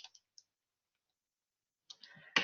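Computer keyboard keys click in a few quick sparse taps, then a denser burst of typing after a short silence, close and fairly quiet.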